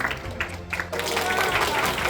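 An audience claps at a Unity and friends game developer meetup in Korea, the applause steady and dense for about two seconds over a low hum and murmuring voices.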